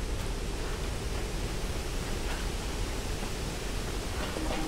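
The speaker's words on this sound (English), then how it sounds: "Sounds like we're coming out near a stream or something." Flowing stream water in Tomb Raider, a steady broadband rushing wash that stays constant throughout with no distinct events, moderately loud and without speech.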